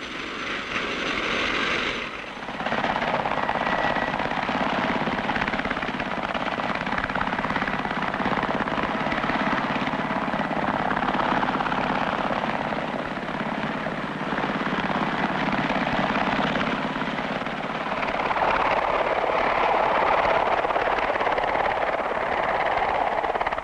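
A Bristol Belvedere twin-rotor helicopter flies steadily overhead, giving a continuous loud, droning rotor and engine roar for the whole stretch, with no voices over it.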